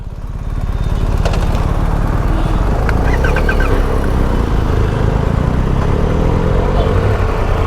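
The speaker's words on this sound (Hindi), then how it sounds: "so we are out and Ajay भाई इज राइडिंग हिज GSA" A BMW R1250 GS Adventure motorcycle on the move gives a steady, close engine drone mixed with road and wind noise, and a few faint chirps sit briefly above it.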